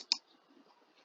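A single crisp, close computer mouse click sounds near the start, followed by near silence with faint room noise.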